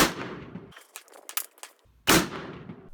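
An M1 Garand rifle firing two sharp, loud reports about a second and a half apart, each followed by a short tail, with metallic clicks and clatter of the action between them outdoors.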